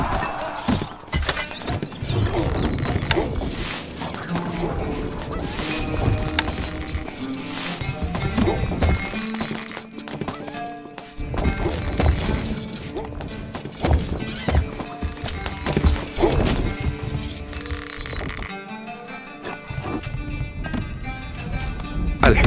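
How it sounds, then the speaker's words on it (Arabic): Horse hooves clip-clop in the Stronghold Crusader strategy game, with rapid rhythmic hoofbeats and occasional whinnies over busy game effects and music. "الحصان سريع."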